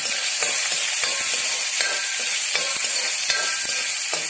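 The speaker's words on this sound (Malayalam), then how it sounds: "വത്തൽമുളക്, കറിവേപ്പില, ഉള്ളി ഇവ നന്നായി വഴറ്റി മൂക്കുമ്പോൾ ചേന അതിലേക്കിട്ട് ഇളക്കിയെടുക്കുക." Elephant foot yam stir-fried in a pan with dried red chilli, curry leaves and onion, a steady close sizzle and frying hiss with repeated scraping stirs throughout, no voices.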